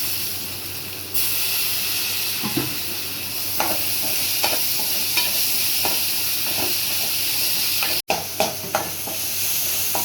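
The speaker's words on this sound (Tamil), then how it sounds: "வெங்காயம் தக்காளி எல்லாம் வதங்கிடுச்சு." Onions and tomatoes sauté in a pan for a Tamil mutton dish, with a steady close sizzle and hiss running throughout and occasional stirring scrapes and clicks of a spoon against the pan.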